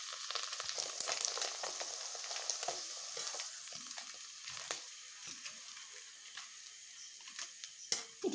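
Sabudana papads frying in hot oil, a continuous crackling sizzle with bursts of bubbling and occasional scraping clinks, close and fairly soft, no talking.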